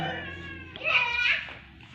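A cat lets out a drawn-out, whining meow in a home with a small child nearby, rising and fading over about a second, close and fairly loud with a voice audible around it.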